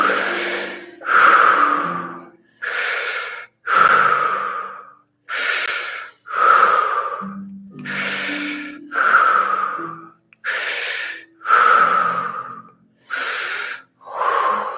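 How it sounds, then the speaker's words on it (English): A yoga class breathes deeply together, loud close breaths in and out in a slow even rhythm of about ten cycles, each a long airy rush separated by brief pauses. "Breathe in."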